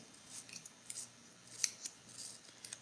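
Eyebrow pencil turned in a small handheld sharpener, producing a series of light scraping and crisp shaving sounds in irregular bursts, close but faint in a quiet room.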